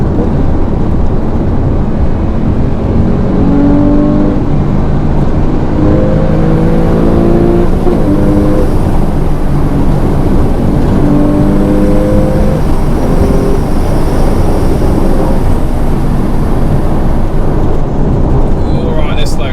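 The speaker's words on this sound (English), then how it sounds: "That intake noise does sound good, produced through that resonator that goes into the cabin at the back." Porsche 991-generation 911 engine intake roar while driving, fed through a resonator into the rear of the cabin; a loud, continuous engine drone with rising and falling revs over steady road noise.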